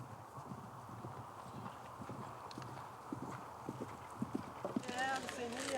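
Horses' hooves clip-clop in a steady, uneven stream at a pause along a horse-drawn route, with occasional snorting, while people talk over them and the activity grows busier toward the end.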